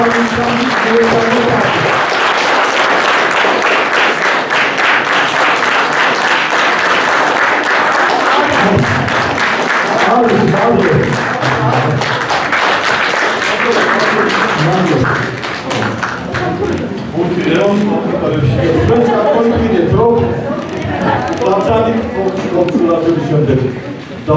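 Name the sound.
audience giving standing applause to football greats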